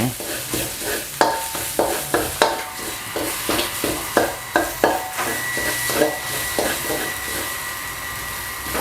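Thai red curry paste stir-fried in a pan over medium-low heat, with a steady sizzle broken by quick, rhythmic scrapes of a spatula, about two strokes per second, close and alone.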